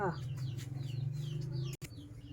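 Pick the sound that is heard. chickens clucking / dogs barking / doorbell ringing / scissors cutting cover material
chickens clucking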